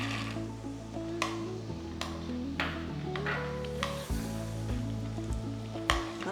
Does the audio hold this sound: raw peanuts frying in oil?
yes